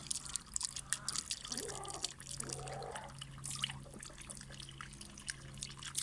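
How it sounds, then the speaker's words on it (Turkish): Water runs from a tap to fill a container, a faint steady trickle with scattered drips and small splashes, heard close in a quiet room. "Suyu doldururken de çekelim."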